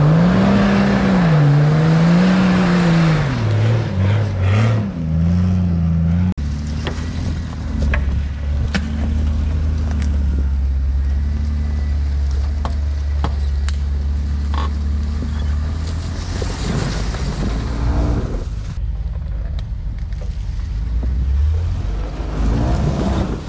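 An off-road vehicle engine on a trail ride at Windrock labors and revs hard under strong throttle, its pitch wavering and climbing as it works through a climb, loud and close with steady engine drone throughout.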